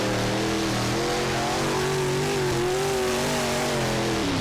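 Race cars at a stock car speedway roar around the track during hot laps, a loud sustained engine drone with shifting pitch as cars rev and pass.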